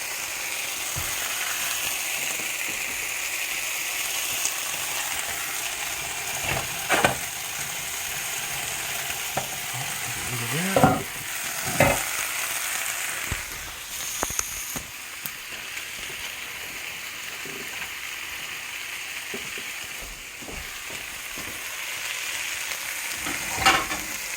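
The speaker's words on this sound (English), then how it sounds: "But the pork chops really pop grease everywhere." Pork chops frying in a pan with grease popping loudly, a constant sizzle broken by sharp spattering cracks and occasional utensil scrapes and clanks, close by.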